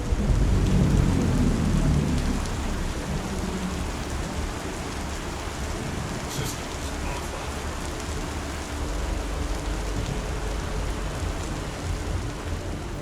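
A thunderstorm in the video game Star Citizen: heavy rain hisses without a break under low rumbling thunder, louder for the first couple of seconds, with a brief crackle around the middle.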